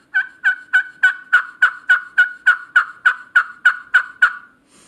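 Handmade turkey call played with an ash striker topped with alder, giving a run of about fourteen evenly spaced yelps in steady rhythm, close and loud with no talking.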